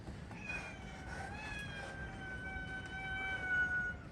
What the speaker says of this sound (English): don't even start that kind of meowing